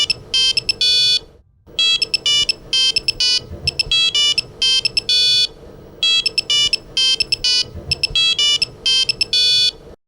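An electronic telephone ringtone in a domestic drama scene, loud repeated bursts of bright melodic trills separated by short gaps, with a low background score underneath.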